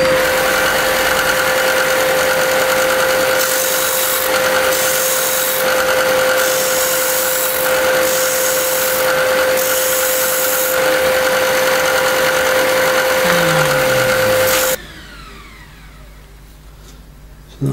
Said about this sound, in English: and then I'm going to put the bevel on.